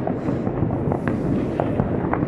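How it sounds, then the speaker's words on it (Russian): New Year's Eve fireworks going off all over a foggy city, with a continuous distant rumble of pops and crackles broken by scattered sharper bangs. "Классно, когда весь город вот так вот стреляет, фейерверки везде."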